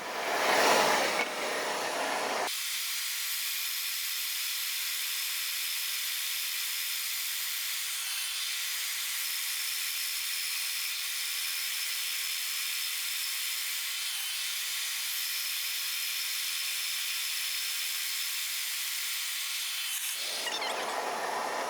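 Small workshop scroll saw trimming wood pieces for a wooden tumble track toy, a steady high buzzing cut that runs unbroken for about eighteen seconds, close and even, with motor sound before and after.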